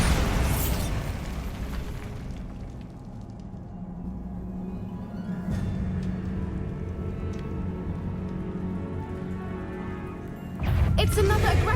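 Bombarda blasting spell in the video game Hogwarts Legacy, heard during a cave trial as a loud, rumbling burst that decays over several seconds, with a second heavy crash near the end, set over game music and effects.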